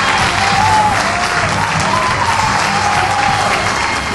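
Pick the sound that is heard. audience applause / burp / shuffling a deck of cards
audience applause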